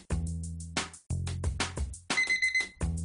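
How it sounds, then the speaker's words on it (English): An alarm goes off in a comic sketch, a short series of bright electronic tones ringing near and loud over a busy backing of music and thumps. "That was my sandwich alarm."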